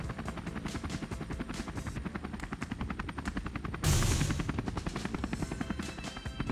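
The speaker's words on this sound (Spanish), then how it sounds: "Doug nos va a llevar en su helicóptero para la casa." Cartoon helicopter from Peppa Pig flies steadily with a rapid rhythmic rotor chop, loud and continuous, while a brighter whoosh joins midway as it lifts off.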